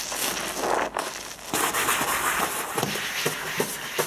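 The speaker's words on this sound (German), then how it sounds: "Damit das grüne Teil von dem Schwamm putze ich einfach den Stein." Green abrasive side of a sponge scrubbing stone during apartment cleaning, a close, continuous rough rubbing with short bursts and brief pauses, no talking.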